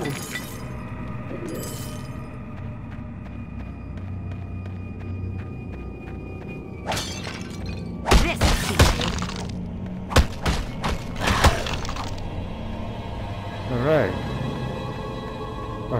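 Breaking and shattering crashes of items smashed with a club in a video game, a cluster of sharp smashes and thuds in the middle, over steady game ambience with a voice speaking.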